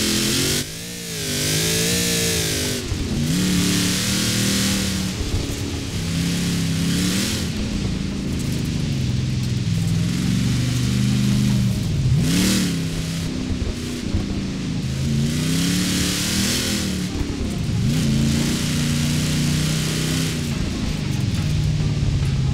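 Toyota car engine in Forza Horizon 4 revving loudly and continuously, with repeated rising and falling pitch sweeps as the throttle is blipped and gears change, alone without talk.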